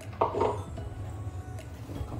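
Caponata ingredients, eggplant and zucchini, are stirred in a baking dish, giving a brief pair of soft clinks and scrapes near the start, then quiet.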